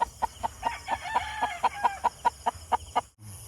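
Chickens cluck in a rapid, evenly spaced series, and a rooster crows close by. A brief pause cuts in near the end.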